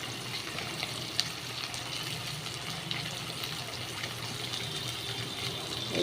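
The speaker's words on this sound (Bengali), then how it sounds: "দেখো, মাছগুলোকে ভাজা করে নিই।" Pieces of katla fish fry in a pan with a steady, close sizzle and bubbling crackle, with a few light clinks and no talk over it.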